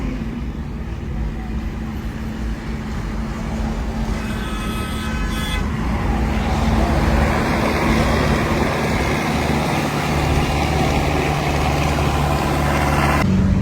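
Swaraj and John Deere tractors drive along a road with a continuous engine drone, a few horn toots partway through, and the rumble growing louder and nearer toward the end.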